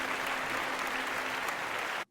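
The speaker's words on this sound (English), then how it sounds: "Audience applaud" Audience applause in a staged audio drama scene, a dense steady wash of many hands clapping at even loudness, cutting off abruptly at the end.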